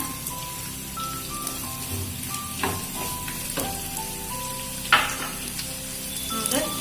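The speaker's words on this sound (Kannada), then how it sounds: "ನೋಡಿ, ಈ ಥರ ಫ್ರೈ ಆಗ್ತಾ ಇದೆ" Onion, capsicum and tomato fry together in a pan, giving a continuous crackling sizzle with scattered stirring clinks and scrapes, heard up close with no voices.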